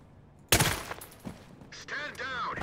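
Gunfire in the tactical shooter Ready or Not: a loud close burst of rapid shots erupts suddenly, followed by a fainter shot, with a voice talking over the tail end.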